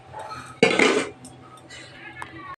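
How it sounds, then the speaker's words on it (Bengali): Thin mrigal fish curry being poured from a pot into another vessel: a short burst of liquid splashing and pouring with light clinks of metal cookware, followed by quieter scraping. "চলো ঝোলটা আমি এই পাত্রটায় ঢেলে তারপর তোমাদের আমি দেখাচ্ছি।"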